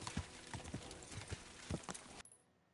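Horse hooves in Kingdom Come: Deliverance II strike in a steady, close clip-clop rhythm while riding, then cut off abruptly into near silence.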